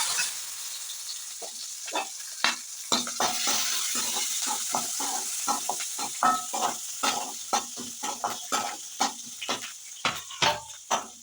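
Garlic sautés in a pan for sundakkai vathal kuzhambu, a continuous sizzle broken by a quick, steady run of scraping stirs that grows busier toward the end, near and without voices.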